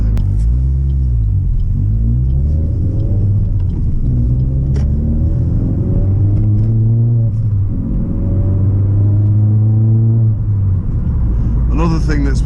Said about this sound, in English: I think the salt/grit truck is behind me.